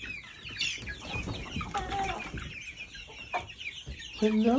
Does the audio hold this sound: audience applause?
no